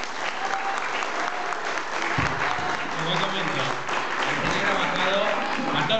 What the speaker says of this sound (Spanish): Creo que eso se merece un fuerte aplauso para ellos dos.